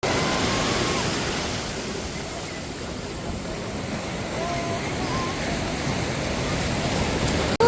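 Waves wash onto a beach at Shrivardhan in a steady, broad roar that holds for several seconds with no break. It sounds close and even, with wind mixed in and no clear voices.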